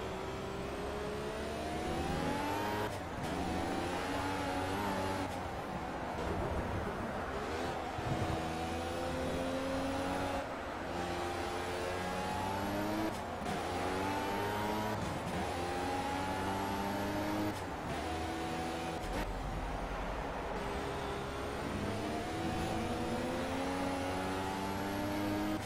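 Turbocharged race car engine in Project CARS revving hard and continuously, pitch climbing and dropping through gear changes across the whole stretch, loud and steady with a high whine riding above the roar.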